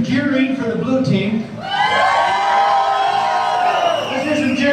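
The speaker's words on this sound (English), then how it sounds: "Let's hear some cheering for the blue team." At a team-building event, a crowd roars for the blue team. Mixed shouts and whoops briefly dip, then swell into a loud, sustained cheer with high children's yells.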